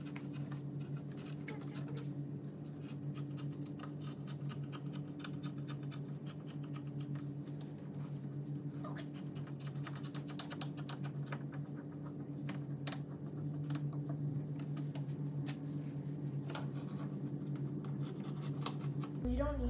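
Scissors snip steadily through an old fleece baby blanket over a constant low electrical hum, with small irregular cuts and rustles close by. A voice is heard talking at times.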